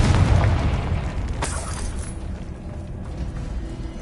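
A Confringo spell in Hogwarts Legacy bursts with a heavy boom and crackling blast, then fades into a rumbling decay.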